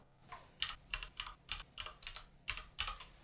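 Keys clattering on a computer keyboard in short bursts of quick strokes with brief pauses, close and fairly quiet, with no voices.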